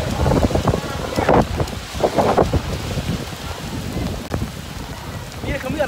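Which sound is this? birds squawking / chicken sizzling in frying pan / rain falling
rain falling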